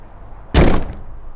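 A Toyota FJ Cruiser rear door closes after a latch install, landing as a single loud, solid thunk followed by a brief rattling settle and quiet.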